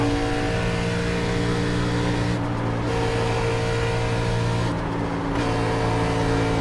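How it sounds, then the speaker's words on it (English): Race car engine at a Texas racetrack holds a steady loud drone at full throttle, easing briefly twice as the driver lifts off, then picking back up, heard from inside the car. "you will see just by the sound of the motor where I am lifting"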